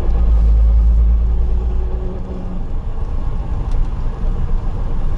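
Steady low drone and rumble from the drivetrain of a 1983 BMW 635i with a suspected gearbox noise, a continuous deep hum that eases slightly after the first seconds, with no voices.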